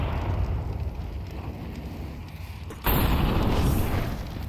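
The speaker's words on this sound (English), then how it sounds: "Perfect nade." Grenade blast in Counter-Strike, a sudden loud boom that lifts into a broad, roaring wash of debris and rumble, sitting on top of a steady low background.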